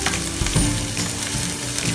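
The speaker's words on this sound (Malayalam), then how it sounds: "അതിലേക്ക് നമുക്ക് ചുമന്നുള്ളി ചെറുതായി അരിഞ്ഞു വെച്ചത് ഇടുക. അതൊന്ന് വഴറ്റിയെടുക്കുക." Chopped shallots sauté in hot oil in a pan for a drumstick thoran, giving a steady, close, loud sizzle with faint stirring and no talking.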